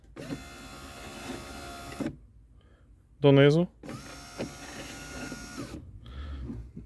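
A Tesla Model 3 power window motor with a new motor whirs in two stretches of a couple of seconds each, raising and lowering the door glass, separated by a brief spoken word, with a short squeak between runs.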